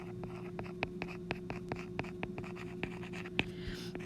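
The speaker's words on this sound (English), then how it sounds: "I'm going to write the title at the top here" A pen writing a section title at the top of a page of math notes on polynomials, quick rhythmic taps and short scratches of letters and numbers, close and clear with no talking.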